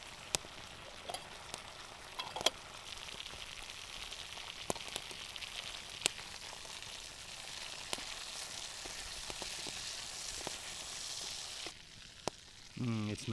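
Onions and mushrooms fry in butter with a steady, close sizzle and hiss, broken by scattered sharp pops and spatters throughout, ending in a brief louder shuffle, with no voices.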